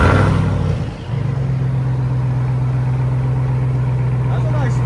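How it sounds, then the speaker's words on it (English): A RAM TRX pickup's 6.2L supercharged HEMI V8 with a Cornerstone muffler-delete exhaust fires up loudly nearby, a brief rev dipping before settling into a steady, deep idle drone that continues to the end. "That's a nice startup."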